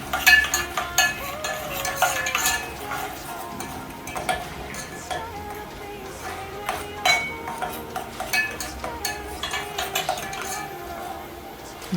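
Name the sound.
stirring beef and spinach pasta sauce in a pan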